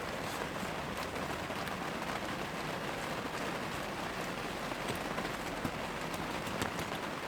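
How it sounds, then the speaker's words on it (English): Heavy rain pours steadily onto a polytunnel or greenhouse in a garden, a dense, even hiss and patter that stays loud and unbroken throughout with no voices. "The rain's pouring down here now."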